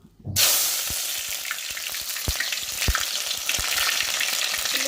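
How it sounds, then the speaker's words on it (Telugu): Onion dropped into hot oil sets off a sudden loud sizzle that keeps up steadily and close by, with small crackling pops scattered throughout. "ఇంకా ఆయిల్ అయితే వేడైంది కదా ఉల్లిపాయ వేసుకుందాం"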